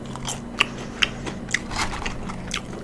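Burger King food bitten and chewed close to the microphone, several sharp crunchy bites at regular intervals followed by moist chewing and crackling, intimate and quiet with no talking.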